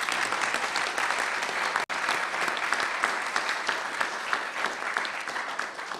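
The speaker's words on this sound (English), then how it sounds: "how about a round of applause for our speaker?" Warm, continuous applause from an audience at a National Press Club event, loud and even with a dense wash of many hands clapping and a single sharp click partway through.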